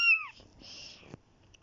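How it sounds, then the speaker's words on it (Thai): A cat gives a single short, close meow at the start, followed by faint rustling and a soft knock. "แมวจ้า เห็นไหมคะ แมวก็ไม่ชอบคุณ"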